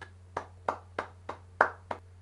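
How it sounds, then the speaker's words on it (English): A single person clapping slowly, six separate claps spaced evenly, close and moderate in level over a steady low electrical hum, with no talk. "round of applause"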